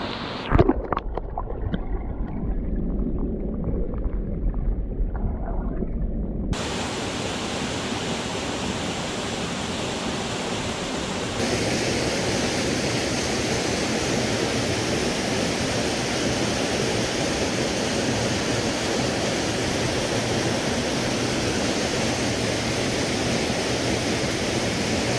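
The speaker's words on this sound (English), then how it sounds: "Right underneath this gorgeous waterfall" Steady, full roar of a backcountry waterfall in North Carolina, close and continuous. It is rougher at the start and swells into an unbroken rush after a few seconds, with no voices.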